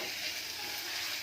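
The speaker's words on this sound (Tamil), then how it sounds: "இப்போ இந்த இஞ்சியில் போட்டு தாளிக்கிறது" Ginger tempering in a hot pan, a steady dense sizzle of frying that holds evenly throughout with no talk over it.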